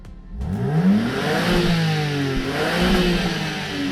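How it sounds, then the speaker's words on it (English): A BMW M4 Competition engine revved in sport mode, rising in a loud close rev, dipping, then climbing again with a throaty exhaust and some mechanical clatter, with no talk. "Let's give it a rev in sports mode."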